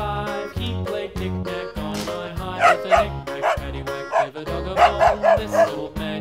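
A toy dog barks and yips repeatedly in short bursts over a cheerful electronic tune, close and loud.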